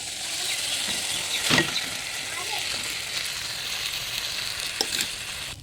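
Soaked rice tipped into a pan of sizzling fried spice masala, a steady broadband frying hiss throughout with a brief louder burst as the grains land and a few faint clinks.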